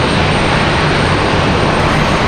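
Airbus A319 jet airliner taxiing at Raleigh-Durham International Airport, a loud, dense, steady jet engine roar, close and unbroken for a couple of seconds with no talking.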